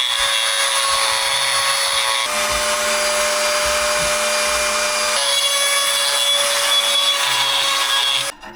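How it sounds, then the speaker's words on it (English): A steady, loud high-pitched whine of a drill line-boring through a V6 engine block's metal, continuous throughout with slight shifts in pitch, then stopping abruptly at the end. "So now the drill goes through"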